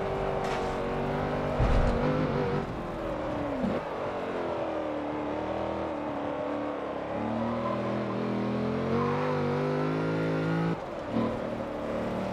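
Land Rover with suspension, brake and racing-tire upgrades driving in Forza Motorsport 7, a steady loud engine drone with shifting pitch as it accelerates and eases off, plus a brief louder burst early on, with no talking.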